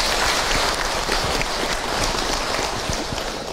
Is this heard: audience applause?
yes